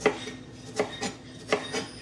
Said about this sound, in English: And while I'm chopping this